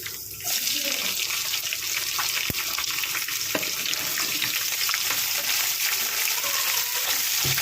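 Curry leaves and onion fry in a pan with Byadagi chillies, giving a continuous loud, close sizzle and spatter that holds steady throughout, with occasional stirring clinks.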